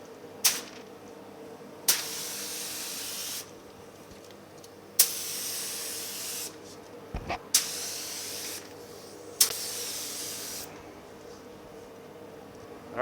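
A spray gun hisses in repeated bursts of clear coat on the inside of a 1950 Chevy truck's doors, each a few seconds long with short pauses between, close and steady.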